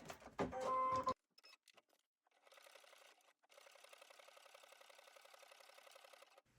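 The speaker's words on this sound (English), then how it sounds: "I'm just going to stitch right down the side." A Brother SE2000 sewing machine stitches down the side of a long vinyl cover piece, its steady rapid needle chatter running for several seconds after a brief burst of handling noise, close and clear with no talk.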